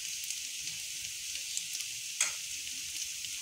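Ginger garlic paste sizzles in hot oil as a steady hiss that lasts throughout, with one brief scrape partway through.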